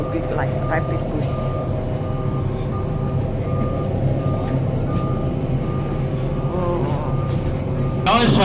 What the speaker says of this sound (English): Hop on, hop off bus.